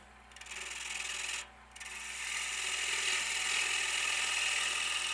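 A gouge cuts a small taper into a wooden bowl turning on a lathe. It makes a quiet, continuous scraping hiss with one brief pause, then grows steadily louder. No voices are heard.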